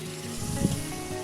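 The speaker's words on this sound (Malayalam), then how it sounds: "വേവിച്ച് വെച്ച ബീഫ് ചേർക്കാം." Cooked beef goes into frying masala in a pan, giving a steady close sizzle with a brief swell in the middle.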